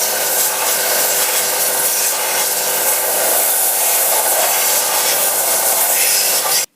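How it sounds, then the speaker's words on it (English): A hand rasp files steadily along a wooden axe handle, producing a loud, continuous coarse scraping that holds without pause for several seconds before stopping abruptly. "on this side I'm going to have to remove a bit of material with just a rasp"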